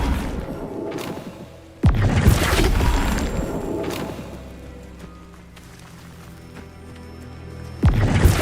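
Flipendo spell cast in the game Hogwarts Legacy, heavy magical impacts with sudden booming thuds and crashing bursts that decay into rumbling tails, repeated a few seconds apart, loud and close with no talk.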